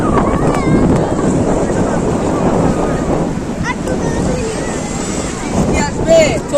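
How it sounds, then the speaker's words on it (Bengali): Sea waves roar and wash along the shore in a loud, continuous rush, partly buried in heavy wind buffeting the microphone. Voices can be heard faintly underneath. "এখন আপনারাও শুনুন সমুদ্রের ঢেউয়ের গর্জন"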